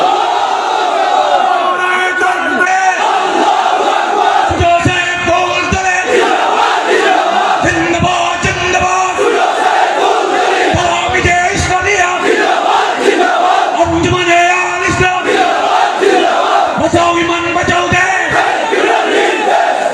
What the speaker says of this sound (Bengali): তকবীর না এখন দিবেন না, স্লোগান অনেক করেছে।